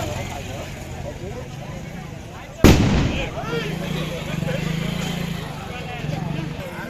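A firecracker bursting during village sarpanch election-day celebrations, one sharp loud bang partway through followed by a brief crackle, with people talking and shouting nearby throughout.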